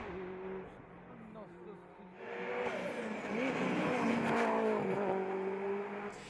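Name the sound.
Mitsubishi Lancer Evo 7 RS rally car driving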